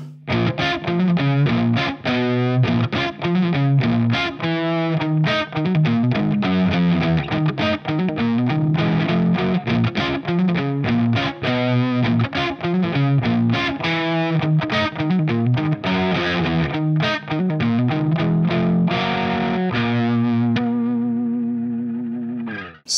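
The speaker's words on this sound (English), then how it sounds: "And if you play it up to speed, it should sound like this." At full tempo, distorted electric guitar hammers through a Phrygian riff in dense, fast chugging chords with chromatic climbs and no pauses. The sound is loud and close throughout, with a last chord left to ring and fade.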